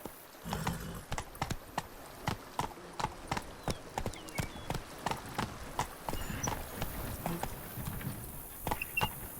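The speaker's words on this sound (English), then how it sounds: "Run, Roach" In The Witcher 3: Blood and Wine, the horse Roach moves at a brisk pace, its hoofbeats landing as sharp, evenly spaced clops that sound close and carry over a soft ambient game background.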